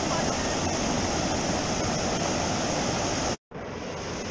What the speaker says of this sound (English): They put logs here to make this waterfall